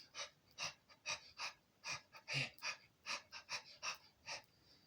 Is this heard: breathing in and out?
yes